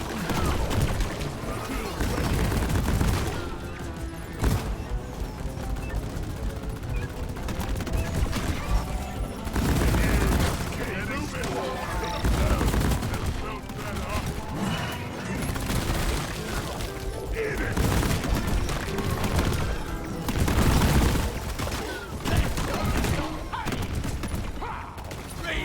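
Engineer's deployed turret firing in Deep Rock Galactic, a dense continuous chatter of gunfire mixed with booms and crashes, sustained loud throughout the battle with surging peaks.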